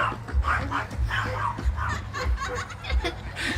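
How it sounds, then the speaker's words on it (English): Small dog, a mother that recently had puppies, barking and yelping outdoors at a Halloween gathering, several short bursts amid background chatter, laughter and children's voices. "Wylan, get the dog."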